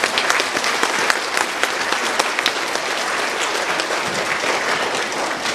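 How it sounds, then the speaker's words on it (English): An audience claps enthusiastically at a sixth grade middle school band concert, producing dense, loud, sustained applause that holds steady from start to finish with no voices over it. "Give those folks a round of applause"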